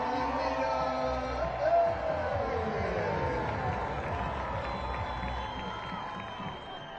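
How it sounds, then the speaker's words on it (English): A stadium crowd roars at a Spokane Zephyr FC versus Lexington SC women's soccer match after an equalizer, a loud swelling cheer and whoops that slowly fade, with a commentator talking over it. "Beautiful equalizer to have the crowd roaring Ekic's name"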